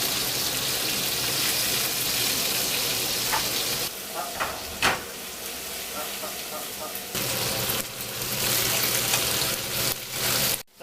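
Garlic frying in oil alongside lamb ribs in a pan, a loud, steady close sizzle that dips and swells as the food is stirred, with a little talk.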